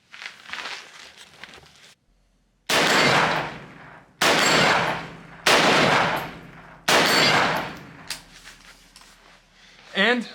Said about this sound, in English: let's do a little less talking, a little bit more shooting